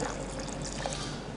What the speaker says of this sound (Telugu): దీనికి ఇక్కడే ముందుగానే మనకు కొద్దిగా నీళ్ళు కూడా పోసుకోవాలి. నీళ్ళు కూడా వేసేస్తున్నాం.